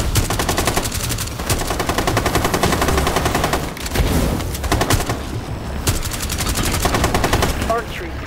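Sustained automatic gunfire in the Rainbow Six Extraction video game as players shoot alien anchor points, loud and continuous rapid bursts with booming impacts, one brief dip midway, and faint game voices underneath.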